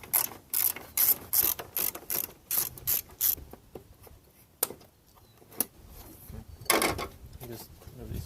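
A hand ratchet clicks in quick bursts while removing 10mm bolts from a car's fan shroud on a Nissan 240SX, close and fairly loud, followed by quieter fumbling and a few scattered clicks.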